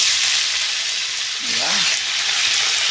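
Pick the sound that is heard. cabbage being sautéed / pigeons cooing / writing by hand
cabbage being sautéed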